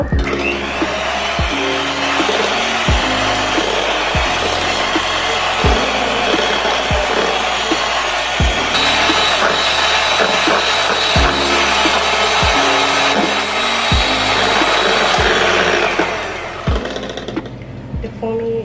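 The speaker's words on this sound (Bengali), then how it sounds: "ডিমের সাদা অংশটাকে এখন আমি মিক্স করে নিচ্ছি।" An electric mixer whirs steadily while beating egg whites with sugar for an orange cake, a loud close drone with rhythmic knocks as the beaters strike the bowl, before it winds down at the end.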